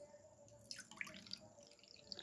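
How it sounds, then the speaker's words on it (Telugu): Water poured gently into a ritual lamp dish for a jala deepam, making a faint, brief trickle with soft drips in a quiet room. "వాటర్ వడ్డిస్తున్నాను."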